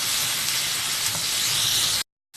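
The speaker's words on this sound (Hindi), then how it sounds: "कलेजी फ्राई हो चुकी है।" Steady loud hiss of liver (kaleji) frying in a pan with masala, a continuous close sizzle that cuts off abruptly near the end.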